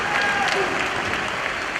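A wrestling crowd applauds in a dense, continuous patter, with a commentator's voice audible over the clapping.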